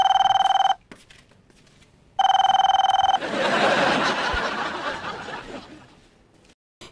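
A telephone rings in two loud electronic bursts separated by a brief pause, followed by a noisy stretch of chuckling and rustling.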